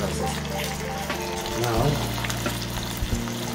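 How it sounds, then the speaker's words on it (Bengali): Beef steak slices sizzle and fry in hot garlic oil with a dense, steady crackle, over which a voice briefly speaks. "এখন এই গরম রসুন আর তেলের মধ্যে স্টেকের স্লাইস বা বিফের স্লাইস স্টেক গুলো দিয়ে দিচ্ছি"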